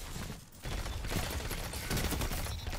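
The Outbreak Perfected exotic pulse rifle firing in Destiny 2, rapid repeated bursts forming a dense, continuous rattle with a brief lull early on, steady and fairly close.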